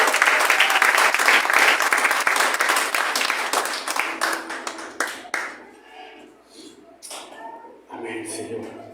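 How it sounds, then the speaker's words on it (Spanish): Church congregation applauding in a Spanish-language worship service, loud dense clapping for about five seconds that thins and fades, followed by a few scattered claps and voices speaking quietly. "Dale un aplauso al Señor."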